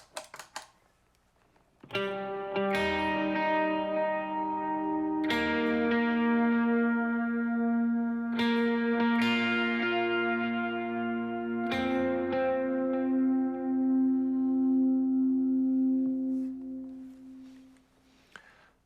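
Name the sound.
electric guitar with effects pedals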